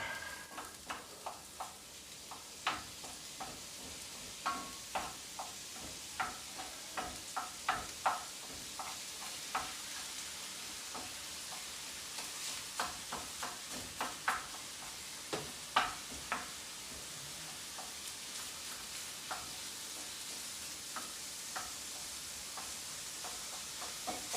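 Ground chuck browning in a pan for homemade spaghetti sauce, with a low constant sizzle and a spoon tapping and scraping at irregular intervals as the meat is broken up. Quiet and close, no talking.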